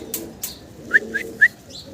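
Fancy pigeons cooing close by, a few short soft coos in quick succession amid light rustling and a couple of wing or foot scuffs, no voices.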